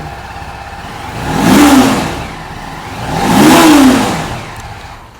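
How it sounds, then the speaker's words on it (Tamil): A used RR310 motorcycle engine idles close by, then revs twice in two smooth swells that rise and fall, loud and throaty, with no talk. "வண்டி இப்போ நான் ஸ்டார்ட் பண்ணி காட்டுறேன் பாருங்கள்."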